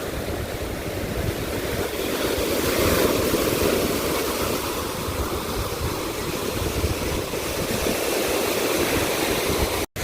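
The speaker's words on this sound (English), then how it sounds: "I'm curious with how the waves are kicked up down here." Lake waves at the Presque Isle beach shoreline are whipped up on a windy day, a loud, continuous roar of surf with wind rushing over it and no talk.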